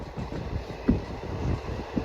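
Steady low rumble and rattle of train 17256 from Secunderabad moving along the tracks, continuous throughout with a few soft clunks, no talking.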